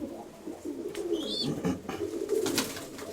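Pigeons coo in low, throaty rolls, several calls overlapping nearby, with a brief higher chirp in between.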